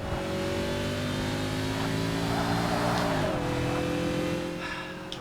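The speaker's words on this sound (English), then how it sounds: "they've managed to replicate how a four-wheel drive car actually gets off the line" A four-wheel drive manual rally car in Forza Motorsport accelerates off the line, its engine revving up in a loud sustained drone that climbs in pitch, drops at a gear change, then climbs again.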